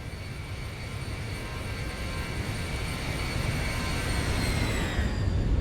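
A Boeing 737 in the ZIBO mod flight simulator, airborne and climbing just after takeoff, gives a steady loud engine roar with high tonal whines, growing slightly louder, with no talk.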